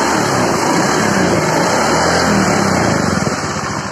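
A Honda Scoopy FI scooter with a fault that makes it puff white smoke and stall, its small engine running close and loud in a steady, even buzzing drone.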